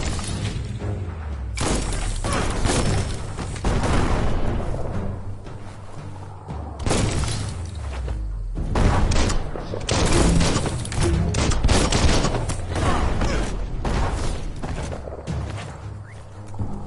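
Explosions from the bomb lobber weapon in Biomutant go off in repeated loud, booming bursts separated by short lulls, continuing for over a quarter-minute.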